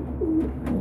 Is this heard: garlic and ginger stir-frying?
no